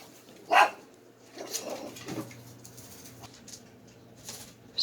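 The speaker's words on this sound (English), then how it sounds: "saw another dog and she just went ballistic" A pet dog barking at another dog in a park, one loud sharp bark followed by a few fainter, rougher yelps, nearby and without talk.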